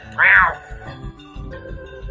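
A Pokémon cry from Pokémon LeafGreen that sounds like a cat's meow: one short, bright, rising-and-falling call near the start, followed by a low background rumble.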